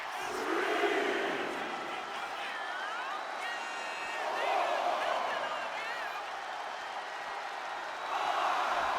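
A wrestling arena crowd in the WWE 2K26 video game roars and cheers in swelling waves, loud and continuous, with a commentator talking over it.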